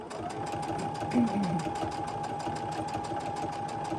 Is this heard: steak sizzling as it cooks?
no